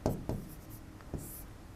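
Pen or chalk writing on a board or paper during a lesson, a few short scratchy strokes spaced irregularly, quiet and close, with no talking over them.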